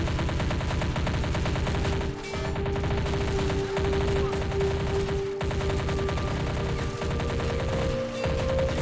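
Army Men of War video game battle: dense, continuous machine-gun fire and rifle shots in a steady rattling roar with no pauses, heard loud and close throughout.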